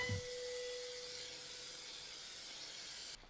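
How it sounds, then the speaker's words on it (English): A steady aerosol hiss from a spray paint can runs for about three seconds, close and even, then cuts off abruptly. "So recently I've taken to spray cans to paint stuff."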